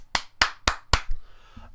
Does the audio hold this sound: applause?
yes